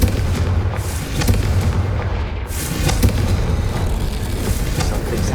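A Confringo fire spell in Hogwarts Legacy bursts in a series of loud booming blasts and crackling impacts, dense and continuous over a game soundscape, with no talking.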